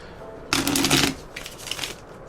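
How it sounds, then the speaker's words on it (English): A brisk riffle of a deck of tarot-style reading cards being shuffled, a loud flurry of fluttering snaps followed by a softer, shorter second riffle. "let's get these cards shuffled and ready to go"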